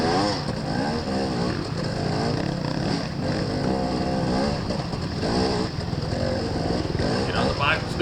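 Dirt bike motorcycle racing through a hare scramble course, its engine buzzing and revving continuously up close, with a rider's voice talking over the engine noise throughout.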